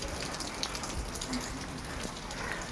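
Steady rain falls outdoors as a continuous, even hiss of drops on surfaces, with no pauses and no voices.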